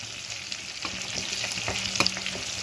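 Green chillies sizzle and crackle in hot oil for a spicy chilli mealmaker dish, a steady close frying hiss with scattered pops and occasional stirring scrapes, no voices.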